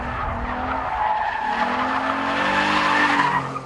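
Tires of a 2014 Cadillac CTS Vsport twin-turbo sedan squeal and skid around a figure 8 course, a sustained wavering screech over engine noise lasting several seconds with no talk.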